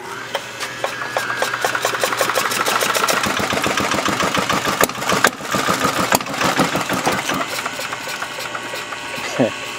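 An antique Yanmar diesel engine, held in place but not bolted down, cranks with rapid mechanical clatter, coughing and sputtering as it tries to catch, with a voice speaking over the noise.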